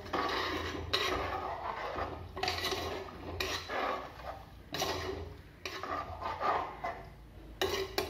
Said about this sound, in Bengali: একটু নাড়াচাড়া করে ঢাকনা লাগাই দিচ্ছি